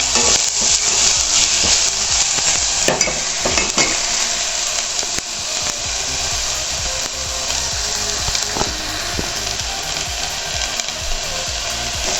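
Chopped drumstick leaves sizzle loudly in hot oil tempering for nuggesoppu sambar, with steady crackling frying and scraping stirs of a utensil against the pan throughout.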